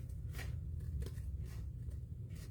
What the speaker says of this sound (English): I'm going to grab a scissors because it's just a hair too long.